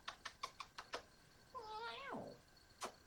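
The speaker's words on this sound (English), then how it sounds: "it's my mama cat. She's 17 years old" A 17-year-old cat gives a single drawn-out, wavering meow, close and fairly quiet, after a run of light, evenly spaced tapping clicks, with one more click at the end.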